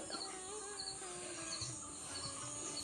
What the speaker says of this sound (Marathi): पक्ष्यांचा आवाज वगैरे पण एकदम मस्त